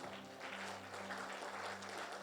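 A church congregation applauds in a steady, faint patter of many hands, with a low sustained hum beneath it and no clear speech.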